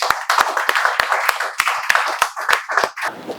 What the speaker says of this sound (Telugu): వాళ్ళందరికీ మేము చప్పట్లతో స్వాగతాన్ని తెలియజేస్తున్నాం.